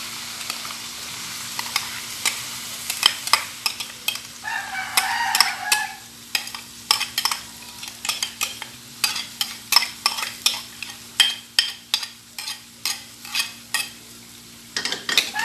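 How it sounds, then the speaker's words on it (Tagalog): Rice mixed with glutinous rice is stirred and fried with ginger in a pan for chicken arroz caldo, a close sizzle under a run of rhythmic scraping strokes that grow louder and more regular toward the end. "At ating hahaluin."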